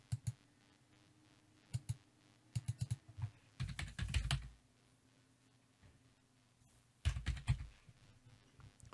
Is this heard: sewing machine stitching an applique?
no